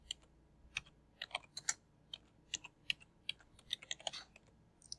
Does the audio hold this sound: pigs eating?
no